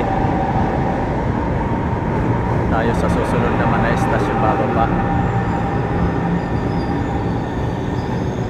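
Loud rumbling of an LRT light rail train arriving at Baclaran station, with rolling wheel noise and some metallic squeal, while a person talks over it nearby.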